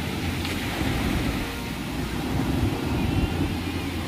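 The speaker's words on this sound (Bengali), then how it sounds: "দেখো শুধু সমুদ্রের ঢেউটা দেখো" Sea waves break on the shore at Mandarmani beach in a continuous, fairly loud broadband roar with gentle surges and no voices.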